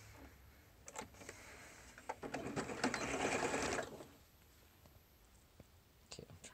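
A sewing machine stitches the seam of a fabric surgical cap, a close mechanical whirring run of about two seconds framed by soft clicks and handling taps before and after.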